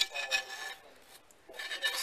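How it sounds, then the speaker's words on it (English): Sandpaper rasping against a wooden knife bevel in short back-and-forth strokes, close and fairly quiet, with a brief pause midway before the rubbing resumes. "sand away at it"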